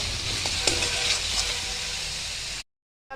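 Ground cumin, coriander, turmeric and salt are stirred into ginger, garlic and chili frying in a pan, giving a steady close sizzle with light scraping that cuts off abruptly near the end.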